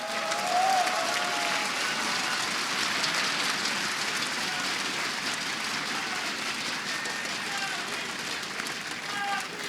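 Broad roar of an esports crowd cheering for NaVi at an ESL One 2015 Katowice CS:GO quarterfinal, steady loud mass of applause and shouting filling the arena, with faint voices mixed in.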